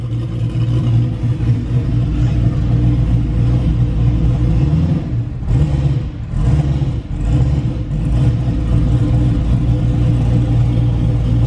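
Loud Chevrolet Camaro engine running close by with a deep, steady rumble, briefly dropping then surging back up as it revs midway, alone with no talk.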